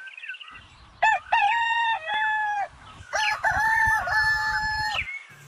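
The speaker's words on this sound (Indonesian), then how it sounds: "Ayam jago" A rooster crows loudly nearby, two long cock-a-doodle-doo calls in succession, with soft clucking between them.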